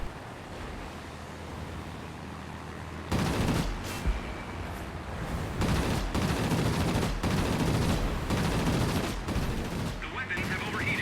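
Rapid aircraft machine gun bursts from a warplane in the World of Warplanes video game, loud repeated firing over a rushing engine and wind roar, with brief pauses between volleys.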